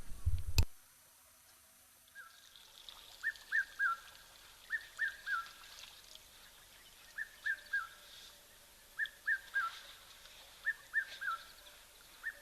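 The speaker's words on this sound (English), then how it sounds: "we can hear the red-chested cuckoo or pitmay calling flat out in the background there" A red-chested cuckoo calls repeatedly in the distance at a waterhole, short three-note whistled phrases recurring every second or so over quiet ambience, after a brief thump at the start.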